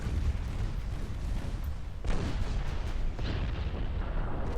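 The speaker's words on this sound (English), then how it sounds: "I'm seeing some secondary gun hits." Naval gunfire and shell hits in the warship strategy game Ultimate Admiral Dreadnoughts, a dense rumbling barrage of booms with sharper impacts breaking through, loud and continuous without speech.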